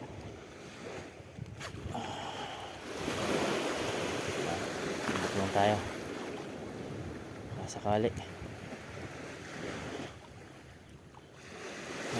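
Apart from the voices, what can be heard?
ocean waves at the shore while fishing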